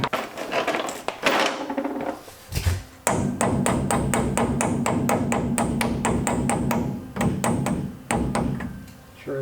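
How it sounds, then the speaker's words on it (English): Close, sharp taps of a wooden hammer handle seating a Brembo brake part on a Toyota Tacoma repeat in a quick, steady rhythm for several seconds, with a couple of brief pauses between runs of strikes. "Use either a rubber mallet or the wood on the back of the hammer"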